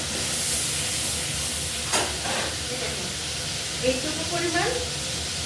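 Gravy and water go into hot mustard oil in a pan while shorshe ilish, hilsa fish in mustard sauce, is cooked. A steady loud sizzle and hiss carries on throughout, with a voice talking over it.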